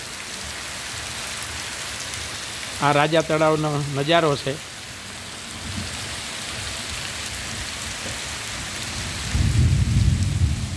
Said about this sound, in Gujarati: કડાકા ભડાકા અને ગાજવીજ સાથે જોરદાર વરસાદ ચાલુ